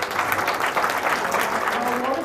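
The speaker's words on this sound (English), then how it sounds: "Allow applause for him, please." An audience applauds after a conference award is presented, steady dense clapping held at an even level for the full stretch and filling the room.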